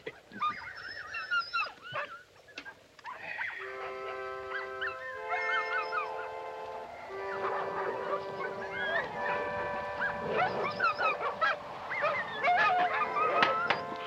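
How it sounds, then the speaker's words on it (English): Several dogs bark and howl at night in a wild northern setting, a long wavering chorus of overlapping tonal howls rising and falling, moderately loud and continuous, with wind in the background. "Dogs are noisy tonight."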